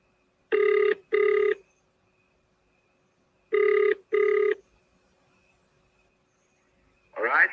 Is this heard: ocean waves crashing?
no